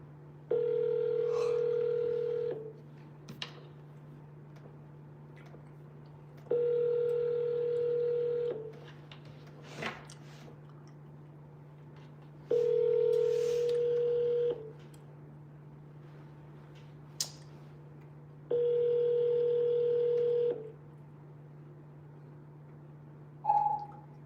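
Telephone ringback on an outgoing call: four steady ring tones spaced several seconds apart, each lasting about two seconds, over a constant low electrical hum with faint clicks between.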